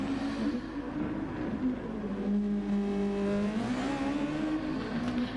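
A race car in Gran Turismo accelerates down a straight during an online FIA Nations Cup race, its engine droning steadily and rising in pitch through the gears, loud and continuous with no talk.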